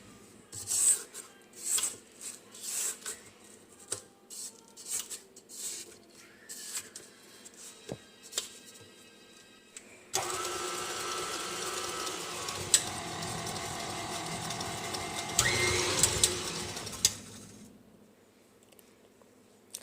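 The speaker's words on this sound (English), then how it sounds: "so now continue mixing it. And scrape the sides again." Cookie batter being mixed in a bowl and the sides scraped, first irregular scraping and tapping strokes, then a continuous loud electric mixer whir that runs for several seconds and stops, no talking.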